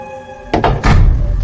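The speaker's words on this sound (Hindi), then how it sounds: "ये दरवाजा कैसे बंद हो गया? वो भी अपने आप?" A door thuds shut on its own in a horror story, two sharp knocking impacts followed by a heavier close, loud and near in a quiet room.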